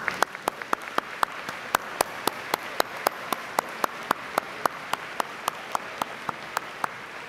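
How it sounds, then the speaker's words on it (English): An audience at a 2011 graduate diploma ceremony applauds the faculty with sparse, steady individual claps and a soft wash of clapping behind them, with no talk over it. "Let's give the faculty a round of applause."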